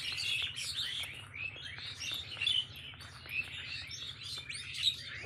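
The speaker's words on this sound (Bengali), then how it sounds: "অনেক পাখি কিন্তু কিচিমিচি করতেছে।" Many birds chirp and twitter together in a dense, steady chorus of high, quick calls beside a riverbank road, faint and fairly distant over a low background hum.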